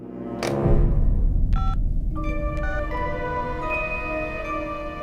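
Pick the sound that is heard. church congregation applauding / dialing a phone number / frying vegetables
dialing a phone number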